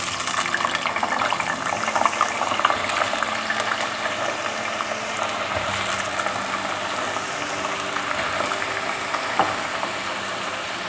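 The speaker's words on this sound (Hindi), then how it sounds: "ऑयल जो है ये गर्म हो गया, इसमें मैं चिप्स फ्राई करने के लिए डालने लगी हूँ।" Potato chips frying in hot oil, a dense bubbling sizzle that holds steady and close throughout, with no voices over it.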